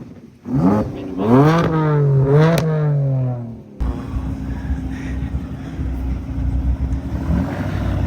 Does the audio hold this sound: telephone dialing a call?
no